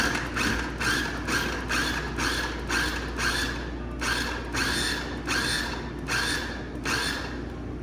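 A food processor pulses cold butter into a crumble topping for an apple crostata, about a dozen short, evenly spaced whirring bursts with brief gaps between them, loud and close.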